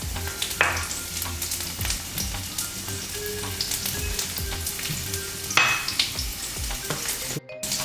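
Slices of ginger and four garlic cloves fry in a large saucepan for Chinese spare ribs, giving a dense, continuous close sizzle with light crackles and occasional stirring scrapes.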